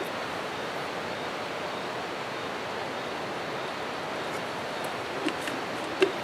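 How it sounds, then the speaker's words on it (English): River water flows in a steady, broadband rush that stays even and fairly close, with a couple of faint clicks near the end and no voices. "That's river water."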